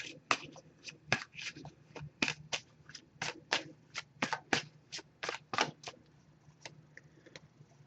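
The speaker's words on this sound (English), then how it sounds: "I'm just going to give this a few shuffles." A love oracle card deck shuffled by hand in a quiet room, giving a rapid irregular series of crisp close riffling snaps and flutters.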